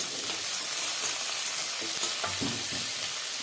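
Sliced onions and green chillies fry in a pan with a dense, continuous hiss. Occasional soft scrapes of a stirring spoon sit under the sizzle, and no one speaks.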